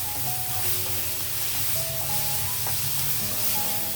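Stuffed egg masala sizzles and fries in a pan while a spoon stirs it, a steady close hiss carrying short scraping strokes with no voices.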